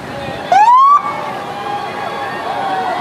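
A police car siren sweeps upward in a single loud wail, then cuts off and leaves a steady traffic rumble behind it.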